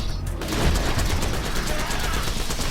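The Infinity pistol in Borderlands: The Handsome Collection fires a rapid, dense stream of loud, close shots in a continuous burst with game effects layered around it.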